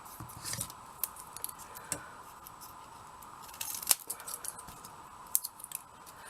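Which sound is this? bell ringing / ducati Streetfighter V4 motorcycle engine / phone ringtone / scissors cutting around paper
scissors cutting around paper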